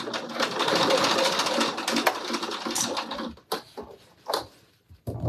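A sewing machine stitches fabric lining in a fast, continuous whirring run for about three seconds, then stops and restarts in a few short bursts, close by with no clear talk.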